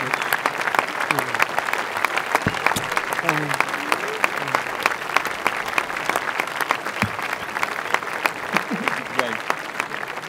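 A crowd applauds photographer Joël Meyerowitz at Les Rencontres d'Arles with steady, full clapping throughout, and a voice speaks faintly beneath it.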